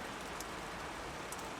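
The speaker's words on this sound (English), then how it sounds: "There is only the sound of the rain inside the pantheon." Dense, even hiss of steady rain falling on a surface inside the Pantheon, with no voices and no change in intensity.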